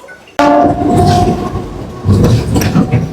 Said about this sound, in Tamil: சென்னை ட்ரெயின்ல பறக்கிறோம்